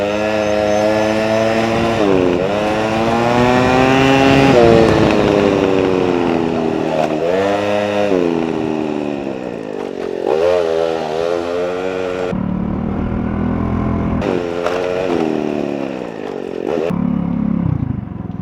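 A motorcycle ridden along a road, its engine revving up and down in repeated rising and falling sweeps, loud and close throughout, with occasional brief dips as the throttle eases.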